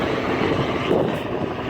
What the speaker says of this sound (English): I think that's the Magnum PI helicopter.